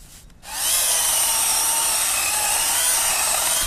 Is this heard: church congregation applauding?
no